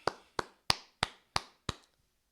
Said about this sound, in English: And I gotta clap it up.